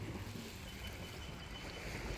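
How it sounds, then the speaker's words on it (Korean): A wide river in Myanmar at dusk, its broad steady rush resembling ocean waves, with wind noise on the microphone and no talk. "소리가 꼭 바다 파도 치는 소리가 나네요."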